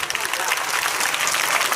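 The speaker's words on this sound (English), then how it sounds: "Clap everyone." An audience at a school's 77th Independence Day celebration claps in a brief, dense burst of many hands, continuous and fairly loud.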